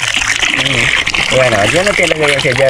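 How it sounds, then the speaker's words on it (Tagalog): Water gushes steadily from a newly built water pump on someone's land, a close, constant rushing splash under a voice talking throughout. "Walang kati-kati na diretso. Walang kati-kati na yan, dire-diretso na yan."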